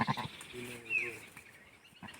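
A sheep lets out a single wavering bleat while grazing in open countryside after rain, moderately close but fairly quiet, with a brief voice just before and soft outdoor ambience after.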